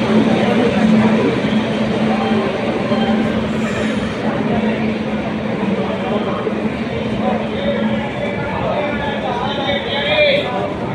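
A passenger train pulls into Erode Junction station, a rumbling rail roar with wheel clatter and squeal that stays steady throughout, while people talk nearby over the noise.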